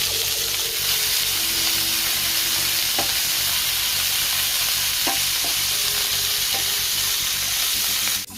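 Corn and capsicum sizzling as they fry in a pan, a steady loud crackling hiss with occasional stirring clinks and scrapes, no talking.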